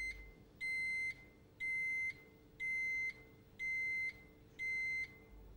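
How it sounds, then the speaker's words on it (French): Five evenly spaced electronic beeps from the convertible-roof warning buzzer of a Renault Megane I cabriolet, each about half a second long, repeat steadily over a low background hum. "Le bruiteur émettra 3 bips si les conditions initiales ne sont pas remplies."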